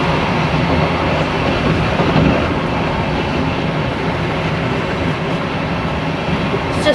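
A Class 159 train brakes on the approach to Wimbledon, heard from the cab as a steady, loud rumble of wheels and running gear that holds even for the full stretch.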